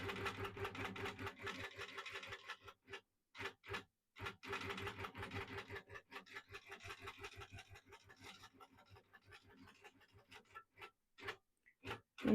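A Pro-Stitcher computerized long-arm quilting machine stitches an edge-to-edge pattern, a steady rapid mechanical ticking of the needle in bursts with short pauses, close and alone with no talk.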